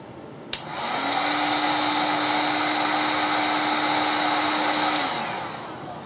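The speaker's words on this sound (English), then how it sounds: "I'm going to bring it over to the heat shrink gun" A heat shrink gun clicks on and blows a steady, loud whooshing roar with a faint whine for several seconds while shrinking paracord sleeving, then powers down, with no talking.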